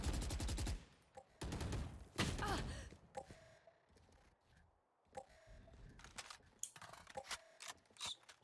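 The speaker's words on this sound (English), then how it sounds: "Some shots hitting here and there." Gunfire in a Valorant collegiate tournament match, with several loud, close bursts of rapid rifle shots followed by quieter, scattered shots and in-game effects during a slow round.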